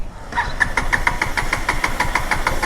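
A KTM Duke 250 gen3 motorcycle engine cranks after running out of fuel, sounding as a quick, regular, close-up chugging beat of starter turns that keeps going without catching.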